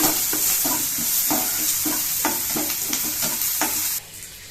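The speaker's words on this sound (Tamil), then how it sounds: "அது லைட்டாக பொரிஞ்ச உடனே இப்போ பொரிஞ்சிடுச்சு" Spices fry in hot oil while a spoon stirs the pan: a continuous close sizzle broken by repeated scraping strokes in a loose rhythm, which drops off sharply near the end.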